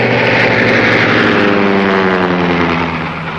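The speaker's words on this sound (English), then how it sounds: "It's our new plane." A 1930s propeller airplane drones steadily overhead, loud and close, with a continuous engine roar that fades slightly at the end.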